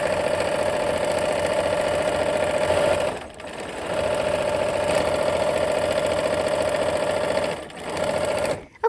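A sewing machine stitches quilt rows in a steady, fast mechanical whir, loud and close, briefly pausing twice before running on, with no talking.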